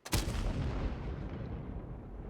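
Tank cannon salvo in a tank video game from an enemy Contender, a single heavy booming shot near the start that rolls into a long decaying rumble, loud and close with no speech.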